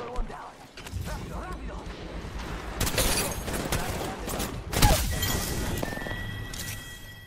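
Gunfire in Apex Legends, rapid weapon bursts and sharp impact cracks mixed with movement and game effects, peaking in a loud hit near the end, with a streamer talking over the action.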